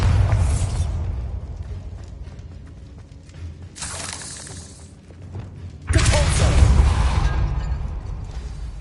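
Bombarda spell explosions in Hogwarts Legacy, a loud initial blast, a brighter crackling burst midway, then a heavy booming detonation with rumbling debris that sustains to the end.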